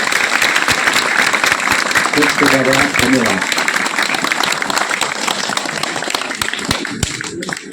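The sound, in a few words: applause at a Tulsi puja school event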